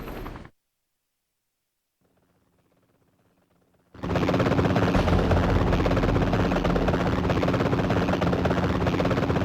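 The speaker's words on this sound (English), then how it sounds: "Looks like those black helicopter conspiracy theories were right." Helicopter rotor roar from the Spider-Man 3 PSP video game, rising abruptly after a brief silence and holding loud and steady, with a faint low mechanical hum just before.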